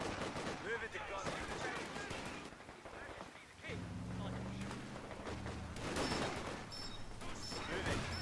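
Machine gun fire in Company of Heroes 2 crackles through dense, constant battle noise, with sharp bursts and booms mixed into a busy war soundscape while voices talk over it.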